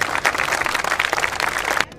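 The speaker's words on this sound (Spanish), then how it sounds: "Regálame un aplauso si tú te estás divirtiendo." Live comedy show audience clapping in a dense, sustained burst of applause for about two seconds, moderately loud and close, ending abruptly into near quiet.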